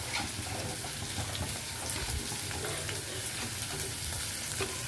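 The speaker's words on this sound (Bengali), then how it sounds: "পেঁয়াজ ফার্স্টে দিয়ে দিলাম পেঁয়াজ কুচি, দিচ্ছি রসুন কুচি" Chopped onion and garlic fry in hot oil in a wok, producing a loud, dense, continuous sizzle with crackling spatters and the scrape of stirring, no talking.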